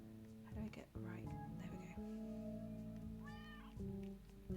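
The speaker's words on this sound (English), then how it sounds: "when you've got like cats making noises" Cartoonish cat meows from the video game Summer Paws, several rising and falling calls over steady background game music, with a person talking over them.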